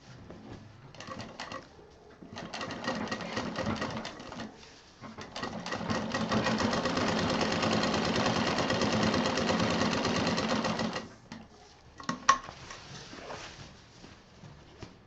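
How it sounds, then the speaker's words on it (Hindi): A sewing machine stitching a strap onto the far side of a small tour bag. It runs in short bursts, then one long steady whirring run, with quiet pauses and a clunk near the end. "अब ये पट्टी हम दूसरी तरफ सिल रहे हैं।"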